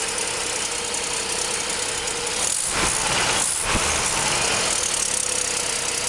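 A car engine idles steadily after new spark plugs were fitted and the plug-hole threads cleaned, a smooth even running note, close and continuous with no talk; a faint exhaust leak may add some rasp.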